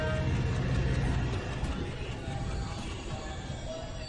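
A train in an Indian film, heard as a steady broadband rumble that fades slightly over the few seconds and continues without a break.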